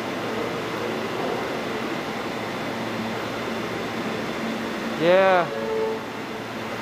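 Subway station ambience while waiting for a train: a steady, broad hum and rumble fills the space, with a brief voiced interjection and a short, faint tonal squeal near the end.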